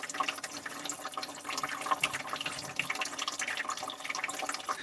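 Coolant drains from the cylinder block of a Lexus LS400 in a steady, splashing stream that pours and trickles continuously at close range, with no talking.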